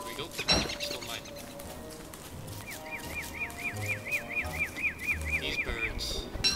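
Birds squawk in the Don't Starve video game, a rapid run of repeated harsh calls over a few seconds while someone talks in the foreground.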